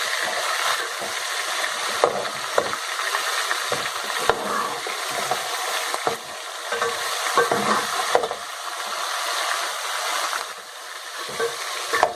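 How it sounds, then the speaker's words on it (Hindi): Meat (gosht) for shaljam gosht fries in a pan, a steady close sizzle broken by repeated stirring scrapes and clinks, with no talk over it. "और गोश्त को हम उस वक्त तक फ्राई करेंगे जब तक के इसमें अच्छा सा कलर ना आ जाए।"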